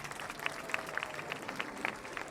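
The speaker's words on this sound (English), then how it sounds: "Go ahead, clap for the select choir, Mr. Zagari." An audience at the opening ceremony of a performing arts center applauds a select choir, with the clapping sounding distant and fairly quiet and a few sharper claps standing out from the steady patter.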